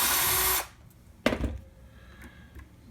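A power drill backs a screw out of a vintage-style Fender American Vintage guitar neck, giving a close steady whir that cuts off, then a sharp knock and faint rattles.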